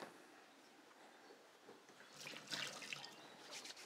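Kitchen tap running to wet hands while making sourdough, a faint hiss that swells into a louder splashing trickle partway through, heard at close range with no talking.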